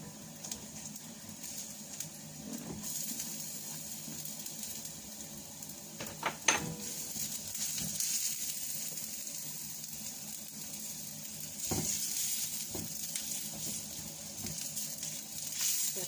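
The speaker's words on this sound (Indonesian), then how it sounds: "kita tumis sampai harum ya" Minced shallots and garlic sauté in hot oil in a pan, giving a steady, moderate sizzle and crackle with occasional scraping stirs and clinks over about sixteen seconds, no voices.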